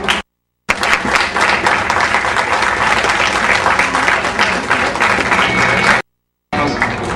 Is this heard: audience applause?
yes